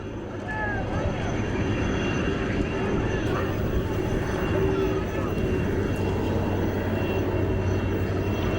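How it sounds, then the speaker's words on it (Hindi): Air Force special aircraft arriving at Rameswaram, a steady broad engine roar that stays loud and continuous throughout, with faint background voices in the mix. "APJ अब्दुल कलाम के पार्थिव शरीर की, जो कि वायुसेना के विशेष विमान के माध्यम से दिल्ली से आज सुबह मदुरई होता हुआ अब रामेश्वरम पहुंचा है"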